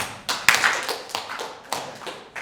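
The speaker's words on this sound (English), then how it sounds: "Let's hear that clap." A lecture audience claps together in loose bursts that rise and fade in uneven waves. The sound is crisp and fairly close, with no talking over it.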